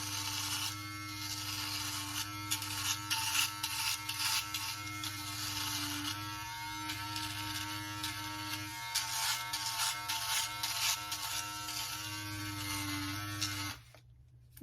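A Yabife beard trimmer buzzes steadily at close range, its motor tone dipping and shifting as it runs over facial hair, then cutting out abruptly near the end.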